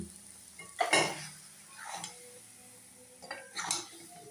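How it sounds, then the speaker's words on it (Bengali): Broken wheat and boiled moong dal being stirred in a pan for dalia khichdi, with a low sizzle under several distinct scraping, clinking spoon strokes against the pan at uneven intervals. "ভালোভাবে নেড়ে নিচ্ছি। এবার ডালিয়াটা আর সেদ্ধ করা মুগ ডালটা দিয়ে দিলাম।"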